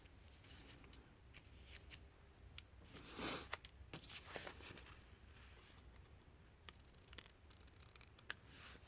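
Paper is trimmed for a scrapbook craft page, giving faint, close crisp snips and papery rustles scattered through a quiet room, with one slightly louder cutting swipe near the middle.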